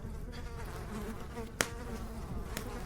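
Faint insects buzz steadily against a low background hum, with a sharp click or knock partway through.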